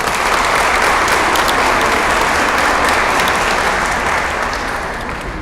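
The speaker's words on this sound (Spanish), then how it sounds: "Un aplauso." An audience applauding at an evening conference talk, a dense, steady wash of clapping held loud for several seconds before starting to taper off, with no voices over it.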